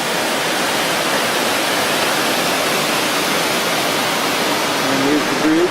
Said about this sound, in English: Yosemite Creek before the falls.